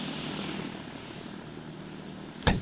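A propeller airplane engine in the video game Stormworks drones steadily at moderate volume, with a brief sharp click near the end.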